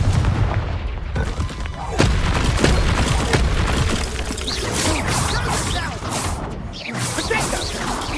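Confringo fire spells burst in Hogwarts Legacy near a cave, a dense run of booming blasts and crackling impacts layered with heavy game music and effects, loud and continuous, with voices speaking over the action.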